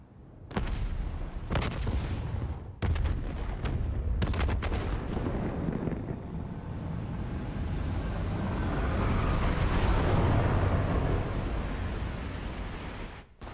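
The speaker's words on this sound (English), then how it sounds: "Hendrix, we have multiple explosions across the facility." Several sharp explosive bangs across a facility in Call of Duty: Black Ops 3 crack out in the first seconds, then a long rolling rumble and roar builds and fades, with distant debris-like noise.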